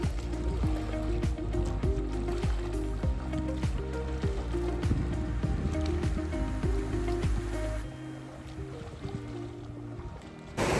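Water rushing over a dam spillway, a dense continuous roar close by, with irregular knocks and handling noise over it until the sound drops and thins toward the end.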